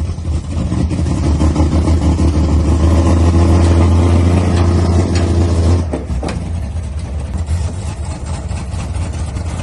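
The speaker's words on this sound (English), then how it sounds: "the old Ford's leaving" A 1964 Ford F100 pickup's engine rumbles loud and steady at close range, then the sound drops off abruptly as the truck pulls away, leaving a fainter engine drone behind.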